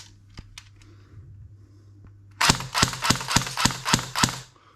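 Airsoft gun with a T238 brushless motor on a 7.4V battery firing semi-auto, about eight sharp cracks at a steady, fairly quick pace after a quiet start with a low hum and faint clicks.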